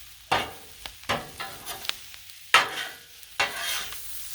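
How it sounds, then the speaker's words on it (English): Collard greens sizzle on a Blackstone griddle with vinegar and hot sauce, a steady close frying hiss broken by several sharp bursts and scraping stirs. "the vinegar and the hot sauce hitting the griddle really gave me a snootful"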